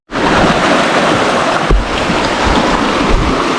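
A strong river current rushes at a trail crossing on an enduro motorcycle ride up Mt. Marami, a loud, steady churning roar of water and waves close to the microphone, with wind buffeting it.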